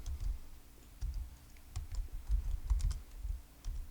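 A search typed on a computer keyboard, delivered as irregular bursts of soft key clicks and thumps that are close and fairly quiet, with nobody talking.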